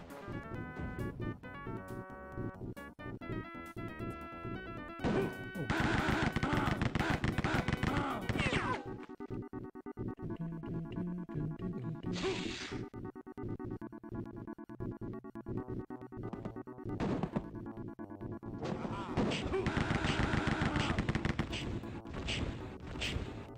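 Retro DOS shooter Rise of the Triad gunfire played on real Windows 98 hardware: repeated bursts of loud, crackly shots and impacts alongside synthesized game music, with dense sustained volleys in the middle and near the end.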